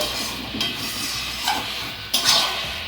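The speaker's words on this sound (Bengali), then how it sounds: "আর একটু কষতে থাকি" Mutton sautéing in oil in a pan sizzles with a steady close hiss, while a spoon stirring it adds a few brief scraping bursts; no voices.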